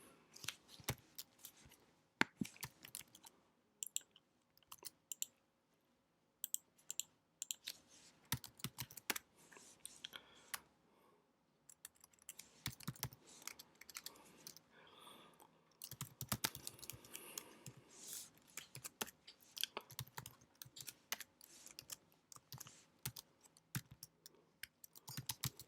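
Computer keyboard typing in bursts of rapid key clicks with short pauses, up close and alone, as a first Go program is written.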